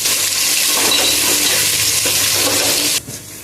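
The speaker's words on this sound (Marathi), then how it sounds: "तीन मिडियम साईजचे कांदे कट करून घेतलेले आहे होते आता आपण हे छान फ्राय करून घ्यायचे डाऊन होईपर्यंत" Three medium-sized chopped onions fry with whole spices in a pan for an egg biryani, giving a loud, steady sizzle that drops abruptly to a quieter hiss near the end.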